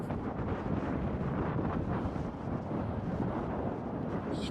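Strong wind buffets the microphone in a steady, roaring rumble that continues without a break.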